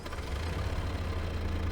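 Kubota tractor engine in Farming Simulator 22 idles at a steady low drone, a continuous moderate rumble holding evenly throughout with no voices.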